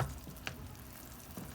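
Boiling sugar syrup for homemade candy is stirred in a pan, a faint, soft bubbling and sizzling hiss with light scraping and a couple of small ticks.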